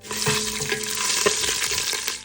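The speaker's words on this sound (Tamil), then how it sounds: "திட்டமாக கொஞ்சம் எண்ணெய் ஊற்றிக்கலாம், கொஞ்சம் கடுகு போட்டுக்கலாம்" Mustard seeds crackling and sizzling in hot oil, a constant hiss dotted with quick pops and stirring scrapes, close by.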